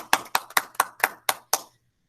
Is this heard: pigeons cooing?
no